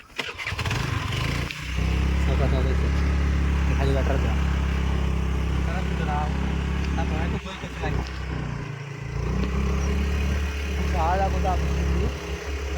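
A motorcycle engine runs steadily at a low, throbbing idle on a rainy road, while people talk nearby over it.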